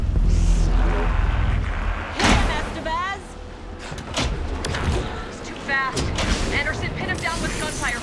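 Gunfire rings out in the video game Alan Wake 2: several loud, sharp blasts spread through a tense fight, with characters talking and shouting between shots.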